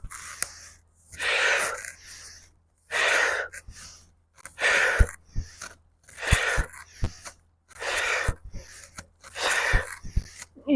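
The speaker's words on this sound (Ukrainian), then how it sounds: "вдих, ніс, видих, губи складені трубочкою" A yoga practitioner doing dynamic morning breathing, inhaling through the nose and exhaling through pursed lips: about seven long breathy exhales in a slow, even rhythm, close and clear, separated by short quiet gaps.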